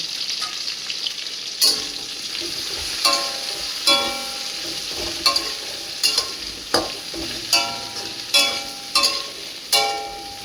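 Poppy seed paste with stems and Kashmiri chili powder fries in a pan, a steady sizzle broken by about ten sharp scrapes and knocks of a spoon stirring at close range, with no one speaking.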